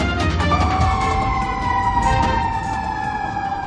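A fire truck siren wails with a slowly falling pitch, loud and continuous over traffic rumble, accompanied by sharp horn-like blasts, as firefighters respond to an ammonia leak at an ice plant.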